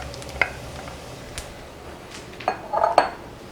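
Steamed spinach is stirred into butter in a pan, with scattered metallic clinks of a utensil against the pan over a faint sizzle, close by and without voices.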